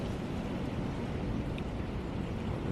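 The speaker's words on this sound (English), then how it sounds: "the wind has got up really bad." Strong wind blows at a lake during winter carp fishing, a steady low buffeting roar battering the microphone without letup.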